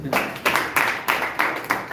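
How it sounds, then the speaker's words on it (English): A few people clap in slow, uneven bursts, about six sharp claps spread across two seconds, close by and moderately loud. "Let's give her a round of applause."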